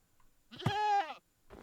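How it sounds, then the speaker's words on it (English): A goat gives a single loud, wavering bleat lasting about half a second, close by, with a faint rustle just after. "It's a goat."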